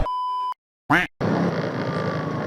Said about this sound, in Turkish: Benim telefon mu çalıyor?